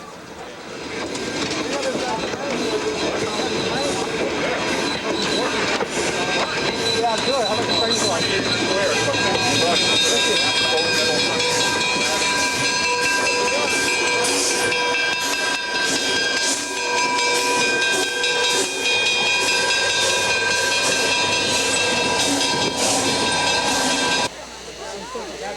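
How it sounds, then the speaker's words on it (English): The Pennsylvania Special steam train moves into position at the 1987 Broadway Limited 85th anniversary event, a loud, steady rush of steam hiss and rolling rail noise with whistle tones sustained throughout, close and continuous before dropping slightly at the end. "the Pennsylvania Special positions itself for the meet with the 1987 Broadway Limited"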